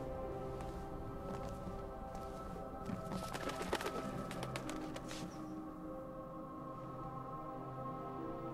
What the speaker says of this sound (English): Noisy-ass birds.